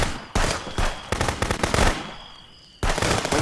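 AK rifle fire in the video game Contraband Police comes in loud, close automatic bursts with brief pauses between them, and a short ringing lull before the final burst.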